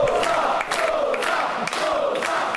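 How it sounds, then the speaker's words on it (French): A wrestling crowd chants a wrestler's name in rhythmic unison, loud repeated shouted syllables pulsing from a packed arena audience. "Et le public qui crie son nom"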